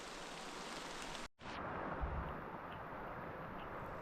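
Rain falling outdoors during an alpine bicycle tour, a dense, loud, steady hiss with a momentary cut near the start.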